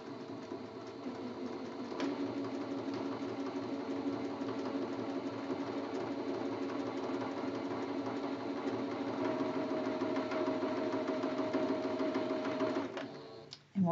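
A sewing machine runs steadily for about thirteen seconds, stitching a quarter-inch seam through the middle of a Churn Dash quilt block, a continuous close mechanical hum that stops abruptly near the end.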